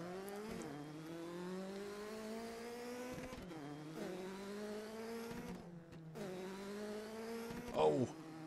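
Offroad vehicle engine in Garry's Mod, droning steadily and rising in pitch as it accelerates, with several gear shifts, one brief dropout near the middle, and a short scrape or tire squeal near the end.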